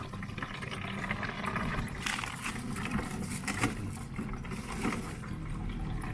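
Engine coolant drains from a Toyota Prius during a coolant replacement, a steady liquid trickle and pour running continuously at moderate level with a broad watery hiss and some louder gurgling surges.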